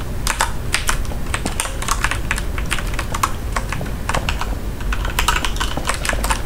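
Someone types on a computer keyboard, a close, busy patter of uneven key clicks running without pause for several seconds, with no talking over it.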